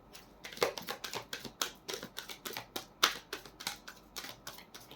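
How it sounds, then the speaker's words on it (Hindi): Tarot cards being shuffled by hand, a steady series of crisp riffling snaps and slaps repeating roughly every third of a second, close and clear with no talking. "This is my last shuffle."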